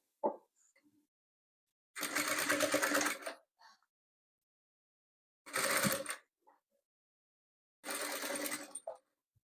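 A sewing machine stitches patchwork fabric pieces in three short bursts of rapid clatter, each lasting about a second or so, with quiet pauses between them.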